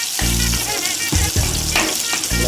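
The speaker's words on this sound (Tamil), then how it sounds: "நீங்கள் கலக்கி விட்டுட்டே இருங்க, வதக்கி விட்டுட்டே இருங்க" Tomato gravy sizzles in a pan as it is sautéed, with a constant frying hiss and intermittent scraping stirs close by throughout.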